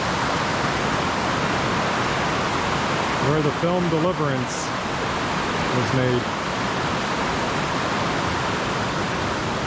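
Lick Log Falls pours into the Chattooga River as a constant loud wash of rushing water, with someone briefly talking over the roar partway through.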